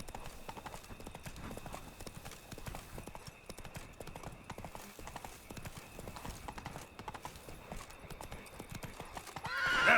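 Horse hooves clip-clop in a steady rhythm inside The Witcher 3 video game, with a horse neighing near the end, under quiet ambient game sound.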